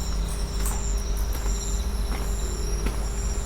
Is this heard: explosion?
no